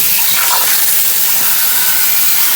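A garden hose sprays hard against a muddy sump pump, rinsing grit out of its grooves and corners, a loud, close, continuous hissing gush with no pauses.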